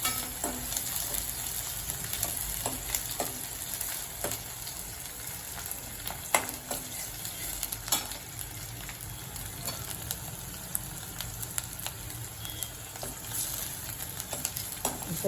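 Tomato sautéing in a pan for aloo palak sabzi, a steady dense sizzle with frequent stirring scrapes and clicks throughout, close and fairly loud, with no voices.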